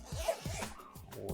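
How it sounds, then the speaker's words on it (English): A zipper on a Xiaomi Mijia case is pulled in a quick series of short, close, raspy strokes, fairly quiet and heard alone. "zipper action very smooth"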